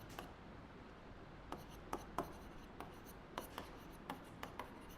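Pen strokes scratch across paper while notes are written by hand, a soft continuous scratching with several brief sharper ticks spaced through the stretch, fairly quiet and close, with no talking.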